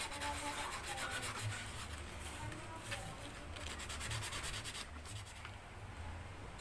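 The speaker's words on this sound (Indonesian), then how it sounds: "Kita haluskan menggunakan amplas." Coarse 20 or 40 grit sandpaper rubs over the inner body panel of an MX King motorcycle in quick, repeated scratchy strokes, quiet and close, with no talking.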